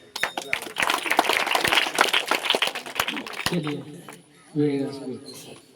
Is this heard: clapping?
yes